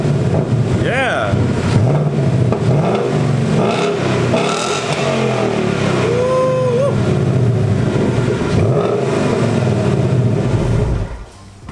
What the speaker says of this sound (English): So that is the stock sound for the car.